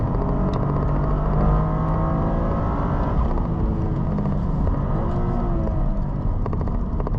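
A Toyota GR Corolla drives and accelerates, its engine a steady close rumble with rising revs and continuous road noise throughout, no talk.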